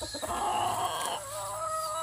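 A rooster clucks close by in a short burst of throaty calls, trailing into a softer sustained note.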